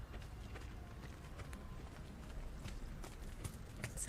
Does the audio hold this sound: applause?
no